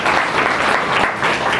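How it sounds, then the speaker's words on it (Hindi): A roomful of people at a meditation class claps together, a dense, steady burst of applause lasting a second or two. "ताली बजा दो सब"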